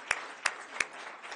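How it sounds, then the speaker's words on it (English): Three distinct claps spaced evenly apart from a lone person at a live event announcing an expanded electric vehicle charging network, faint against a quiet room. "All right, I'll clap for that one."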